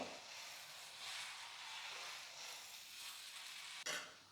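Dosa batter spread thin on a hot dosa griddle gives a faint, steady, hissing sizzle with gentle swells. A short sharp scrape or tap comes near the end.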